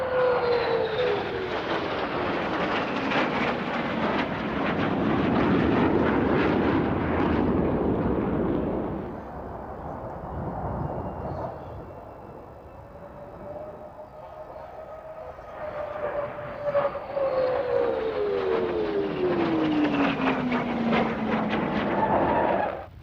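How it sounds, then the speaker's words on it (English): A pair of French Navy F-8 Crusader jets passes at an airshow, twice building to a loud roaring flyby with falling whine, a quieter lull between passes, then a second roaring pass fading out. "Next, a pair of French Navy F-8 Crusaders."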